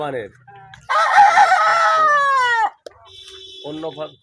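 A Bahama breed rooster crows loudly and close by, with a long drawn-out call, then shorter clucks and calls from chickens follow.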